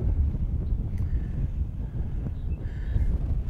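Wind gusts buffet the microphone outdoors on open water during a windy fishing outing, a low rumbling roar rising and falling, with a faint crow cawing in the distance.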